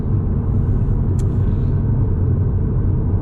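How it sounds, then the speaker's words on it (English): Alpine A110 GT at speed, heard from inside as a loud, steady low rumble of tire and road noise with little else above it and one brief faint squeak. "There's quite a lot of sound from the tires, but very little wind noise actually."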